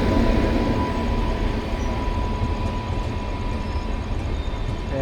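A train rolls through Kankavli station with a steady, loud rumble of wheels and carriages, a faint tonal hum running through it and no voices.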